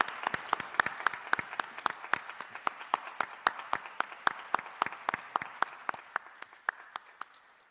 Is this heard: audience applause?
yes